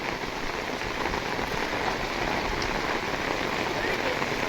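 Heavy rain pours down on a village, a dense, loud, continuous hiss of drops striking surfaces that stays steady from start to end, with no clear voices above it.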